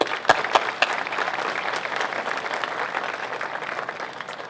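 Audience applause at a high school all-class reunion induction ceremony in East Liverpool, a few sharp claps opening into sustained, even clapping from a crowd in a hall.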